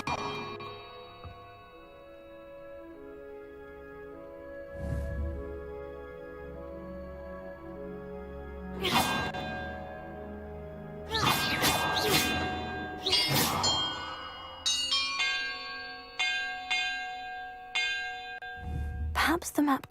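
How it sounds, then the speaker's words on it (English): Bells are struck one by one in a Hogwarts Legacy puzzle, clear ringing bell tones at irregular intervals, then a quicker run of chimes near the end over soft background ambience. "Perhaps the map contains clues about the order I'm supposed to ring the bells in."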